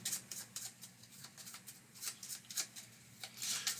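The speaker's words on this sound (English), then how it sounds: "Now we shuffle it up." Cards from a board game deck are shuffled in quick, soft riffling bursts, close and fairly quiet, with no talking.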